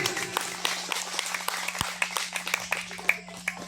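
Scattered clapping from a small party crowd for a contestant, uneven and moderately loud, with a constant low hum and a few sharper individual claps standing out.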